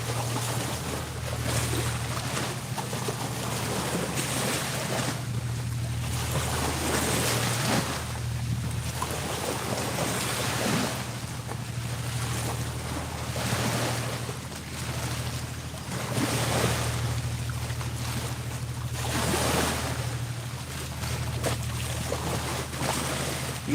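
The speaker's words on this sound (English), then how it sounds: "It's gonna be a few seconds till the water calms down" Choppy water slaps and washes steadily around a small fishing boat, close and fairly loud, over a constant low droning hum and gusts of wind buffeting the microphone, with no speech.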